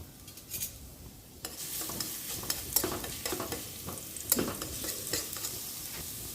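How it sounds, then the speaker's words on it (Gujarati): Crushed garlic sizzles and fries in hot oil in a pan, a continuous crackling hiss with occasional spoon stirs and scrapes, quieter at first then louder and busier. "તેલ ગરમ થાય એટલે આપણે એમાં આપણું લસણ એડ કરીશું"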